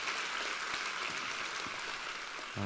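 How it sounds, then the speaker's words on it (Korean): Church congregation at a Sunday worship service gives a steady round of applause, heard faint and distant like a soft rain-like patter before ending abruptly. "우리 하나님께 감사와 영광의 박수 올려드리겠습니다."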